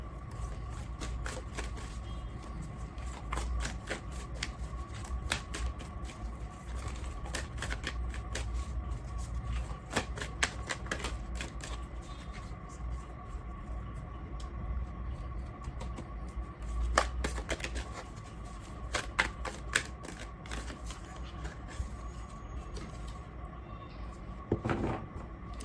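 Tarot cards are shuffled in soft, quick riffles and taps at close range, quiet and intermittent, with a few louder clacks of handling and no talk.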